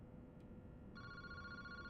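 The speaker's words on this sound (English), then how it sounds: "Boss, the phone is ringing." A telephone in a video game begins ringing partway through, a clear electronic bell tone over a faint low background hum.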